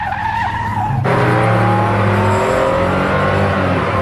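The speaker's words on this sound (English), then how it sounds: "I just love the sound of this motor." A Porsche sports car's engine roars loud and close while the car skids through a corner, with rising revs, tire squeal and a sharp jump in volume after the first second.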